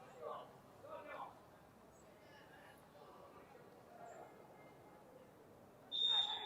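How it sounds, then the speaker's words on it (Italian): At an under-16 regional youth football match in Sicily, a referee's whistle gives one short, sharp blast near the end, after a stretch of quiet commentary and faint crowd sounds from the ground. "Fischia l'arbitro"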